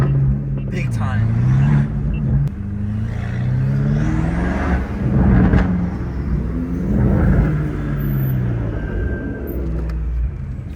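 Straight-piped turbocharged BMW M car driving through city streets, a loud droning exhaust rumble that rises and falls with revs, heard from nearby with people talking over it.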